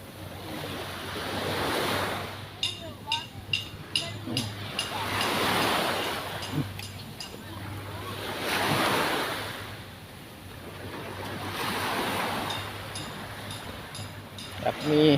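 Surf rolls in on a secluded hidden beach in Pattaya, with rocky stone mounds nearby, in broad washing swells that rise and fade every few seconds, alongside light wind rumble and a few faint clinks.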